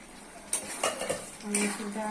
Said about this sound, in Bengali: আলু ভালো করে কষে কষে রান্না করে দিতে হবে